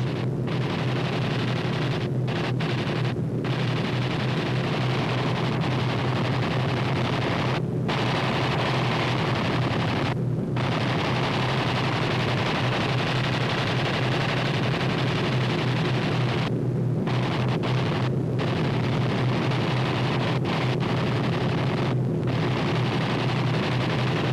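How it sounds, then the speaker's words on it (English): Rumbling, continuous barrage of gunboat bombardment and gunfire during the wartime invasion of Tarakan, with dense booms and blasts overlapping throughout in a steady, noisy din and a few brief dropouts. "Gunboats bombarded the town of Lingas, gateway to Tarakan's airfield, where the main landing was to be made"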